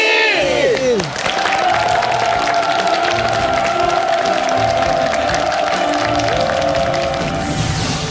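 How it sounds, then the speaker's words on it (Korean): Studio audience on a Korean health talk show cheers and applauds loudly as a guest gastroenterologist is welcomed, with a sustained crowd roar, whoops and a bright musical tone running underneath throughout. "큰 박수로 맞아주시기 바랍니다."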